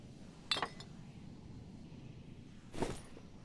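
Two separate metallic clinks of pots in the Dark and Darker fantasy dungeon game, each short and bright, the second slightly longer, over a quiet low background hum.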